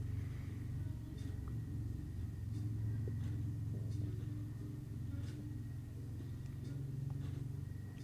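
Low, steady rumble of vehicles passing outside, a continuous distant traffic drone through the whole stretch with faint intermittent clicks on top.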